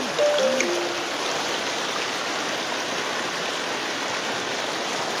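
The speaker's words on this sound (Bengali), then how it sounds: "আমার বাড়ির ভিতরে দিয়ে পানি ছুটছে।" Floodwater from the Manu river rushes through a flooded house compound in Moulvibazar, a steady broadband roar of moving water with a brief faint tonal sound near the start.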